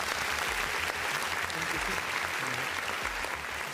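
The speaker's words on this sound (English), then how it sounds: "A round of applause, ladies and gentlemen." Audience applause fills a UAAP Season 88 men's basketball press conference room, a steady dense clapping from a sizable crowd that runs throughout without pause.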